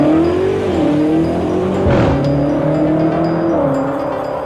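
A BMW M8 Competition engine running with a steady, loud droning hum whose pitch rises and dips slightly, heard close with no voices.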